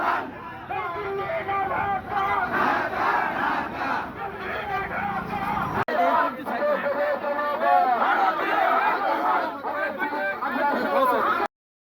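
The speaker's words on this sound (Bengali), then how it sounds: "স্লোগান দিতে দিতে বিক্ষোভ মিছিল নিয়ে সীমান্তের দিকে যায় লোকজন" A large protest march crowd chants slogans in loud, rhythmic unison, continuous and dense throughout, heading toward the Chapai border area in Bangladesh.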